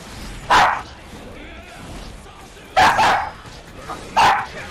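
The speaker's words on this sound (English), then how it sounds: "whatever you're saying, Chari, I can't hear you over the dog." A dog barks three times in the background, sharp loud single barks spaced a couple of seconds apart, with quieter room sound between them.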